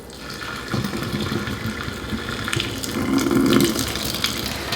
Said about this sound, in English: Okay, so the noodles have been cooking for 4 minutes. I'm going to drain out the water.